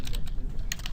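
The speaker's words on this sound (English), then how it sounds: "I'm going to type in bevel width" Steady typing on a computer keyboard: quick, even key clicks run through the whole second with no speech over them.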